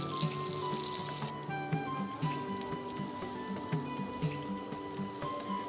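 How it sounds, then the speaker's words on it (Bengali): Eggplant fritters coated with turmeric, chili powder and salt fry in hot oil, giving a steady close sizzle with soft, regular bubbling pops and no talking. "এবং প্রায় 5 থেকে 6 মিনিট মতো বেগুনিগুলো ভেজে নিব"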